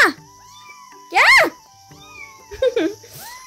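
A cat meows nearby in a few loud, drawn-out, wavering cries with quieter pauses between them.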